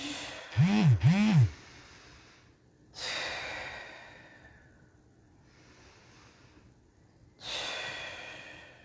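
Heavy exhales and deep breaths during a home squat workout for mums, a pair of voiced breathy puffs followed by slow, audible breaths spaced a few seconds apart.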